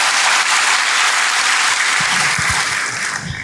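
A church congregation breaks into loud, dense applause, clapping steadily before it begins to thin out near the end.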